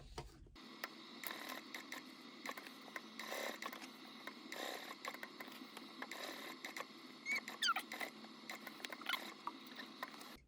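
A sewing machine stitches a handbag into place, a faint, quiet mechanical patter of stitching with irregular bursts and pauses across about ten seconds.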